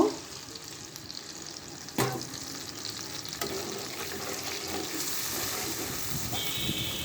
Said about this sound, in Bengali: অল্প পরিমাণে একটু পানি দিয়ে আমি মশলাগুলো কষিয়ে নেব।